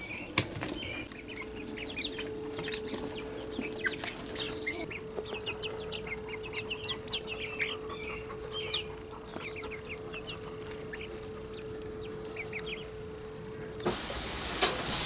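Soft clucking and scattered chirps from chickens run throughout at low volume, with a steady hum underneath and a brief burst of noise near the end.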